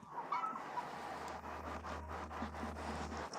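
Soft clucking from a rooster, faint and low over a steady background hum, with no talking.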